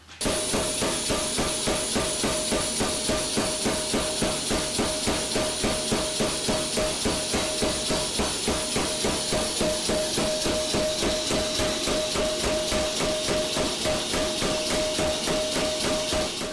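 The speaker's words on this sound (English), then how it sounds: "that cycles up and down with a pneumatic cylinder that's inside the hammer right here" A blacksmith's pneumatic power hammer pounds in a fast, steady rhythm, about three loud blows per second, with a constant mechanical hiss underneath.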